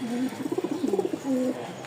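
Rajshahi Giribaz flying pigeons, a red pair of male and female, coo nearby in a soft, rhythmic series of low throaty pulses, with one sustained coo near the end and no talking.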